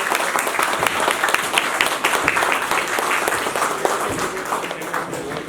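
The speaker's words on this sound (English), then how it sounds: "Please give a huge round of applause for yourself." A crowd at a foundation day celebration applauding, dense and loud continuous clapping filling the whole stretch, slightly easing toward the end.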